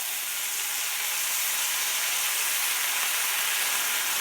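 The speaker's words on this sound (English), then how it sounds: "what we're going to do is deglaze these. A little bit of soy sauce." Soy sauce hits a hot pan during deglazing and sets off a loud, steady, bright hiss of sizzling steam that carries on evenly without a break.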